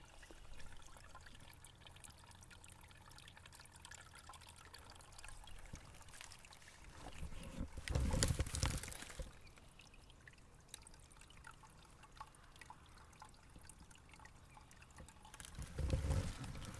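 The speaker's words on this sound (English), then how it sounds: "The water's trickling down through, so I'm going to try to record it." Water trickling down through fallen deadwood on a forest hike, a faint steady flow close by with a louder gurgling burst near the middle and another near the end.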